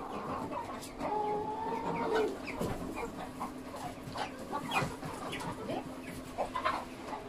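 Local free-range chickens cluck and squawk in a busy, scuffling scramble as they are chased and caught in rural Xiangxi, Hunan. The calls are scattered and mid-distance, with faint voices in the background.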